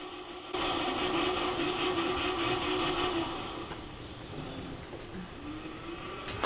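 A car engine drones in a driving video game as the car drifts through a turn, a steady mid-pitched whine that shifts in pitch and eases off partway, with no talking.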